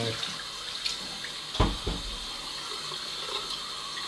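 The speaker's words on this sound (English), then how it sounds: "let's get some hot water" Hot water runs steadily from a tap into a sink, a continuous close hiss and splash with a few louder knocks partway through, no talking.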